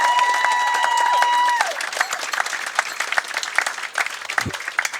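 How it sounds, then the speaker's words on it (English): Wedding guests break into a burst of applause, many hands clapping together at a steady, close, crowded level after a brief tonal ring, with some voices mixed in. "Can we have a big clap for Georgie and Ben?"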